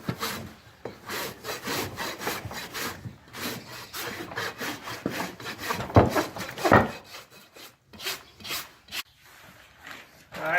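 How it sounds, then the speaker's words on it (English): A rasp files a horse's hoof after trimming and shoe removal, heard as repeated close, gritty strokes in an irregular rhythm, with brief gaps between passes. "take some of the sharp edges off of his foot with the rasp"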